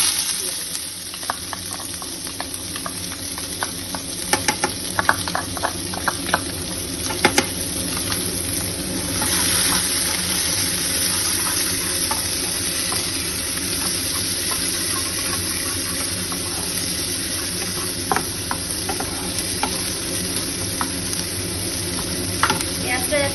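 Two medium chopped onions fry in a pan with a pinch of salt for paneer bhurji, giving a steady close sizzle broken by scraping stirs and clicks of a spoon on metal, with no talking.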